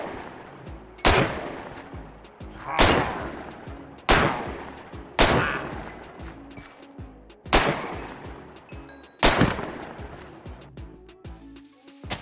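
Gunfire from Minecraft firearm mods in a video game, heard as six loud, sharp shots spaced roughly two seconds apart, each followed by a decaying reverberant tail.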